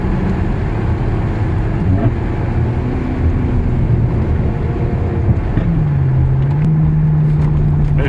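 A Ferrari 360 engine and exhaust idle with a deep, rough rumble, then the revs rise and settle into a higher steady drone near the end, loud and close, with no speech.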